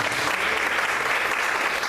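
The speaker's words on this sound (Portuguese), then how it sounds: "Você pode aplaudir o Senhor por isso." Worshippers in a church service break into loud, continuous applause, a thick uniform patter of many hands filling the room without pause or speech.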